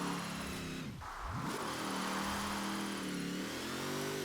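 A vehicle engine in Forza Horizon 4 drones loudly while drifting, pitch dipping sharply as it brakes then climbing back into a steady high whine.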